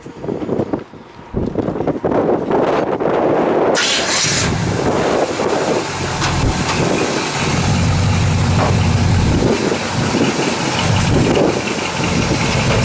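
A 1984 Chevy C10 restomod with a 396 engine and headers starts and settles into a loud, steady idle, a deep rumble heard close up with some wind buffeting on the microphone.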